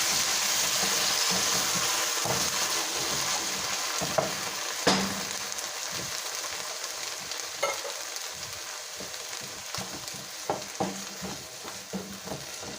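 Crushed tomato sauce frying over high heat in a pan, a steady loud sizzle with occasional stirring clinks and pops up close, no talking.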